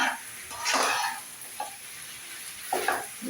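Noodles with vegetables are stirred in a pan, giving a few scraping swishes and a soft sizzle in short bursts, close and moderately loud, with no talk.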